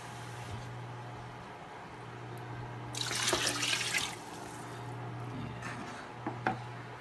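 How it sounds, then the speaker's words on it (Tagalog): Rice-washing water poured over pork in a cooking pot while making sinigang, a soft splashing pour for about a second in the middle, with light liquid sounds and a steady low hum before and after. "Dagdagan lang po natin ng tubig hanggang ma-cover niya po yung ating pork."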